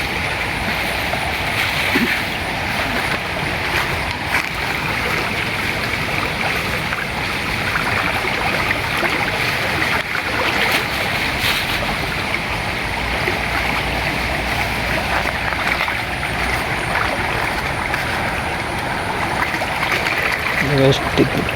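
Water pours continuously into a mud crab trap, a steady rushing, trickling wash lasting the whole stretch, fairly loud and close, with people talking faintly in the background.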